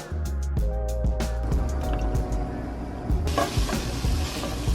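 Food sizzles steadily in a pan with seasoning, a dense continuous frying hiss broken by utensil knocks and scrapes, close and fairly loud, with a brighter sizzle surge near the end.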